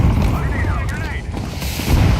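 A video game grenade explosion produces a heavy, low rumbling boom with dense low-end energy, mixed with warbling game effects and a voice talking over it.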